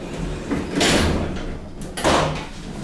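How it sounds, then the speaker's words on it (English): A manual swing side door on a 1955 ThyssenDover hydraulic elevator, modernized in 2000, opens with a rumbling scrape and a second heavier clunk, both fairly close and loud. "Now, a swing door in the back."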